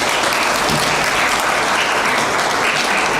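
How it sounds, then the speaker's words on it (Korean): Audience applause at a Korean high school admissions information session, a dense, steady wash of many hands clapping together, loud and continuous from start to finish. "다시 한번 박수 부탁드립니다."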